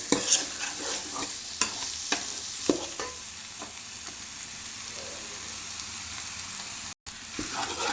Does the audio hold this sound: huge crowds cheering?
no